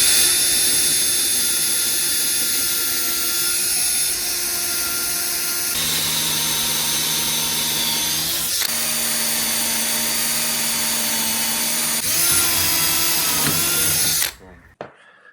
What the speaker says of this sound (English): by drilling from both sides, you get a very, very clean cutout for the doorknob